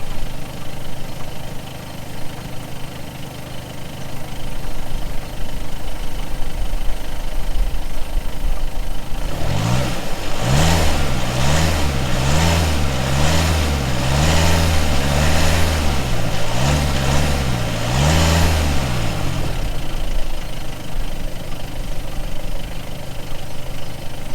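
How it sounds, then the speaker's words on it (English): A VW Golf 7 GTD diesel with the sport sound pack revs repeatedly in a rising-and-falling rhythm after a steady idle, loud and close with no talk. "I'll rev the car now just to see if the sound comes in there as well"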